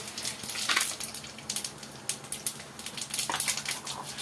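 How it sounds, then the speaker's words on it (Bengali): Cumin seeds sizzling in hot oil for tempering a mung dal and cucumber dish, a dense crackling spatter with irregular pops, close and steady for a few seconds. "অল্প জিরা ফোড়ন দিব"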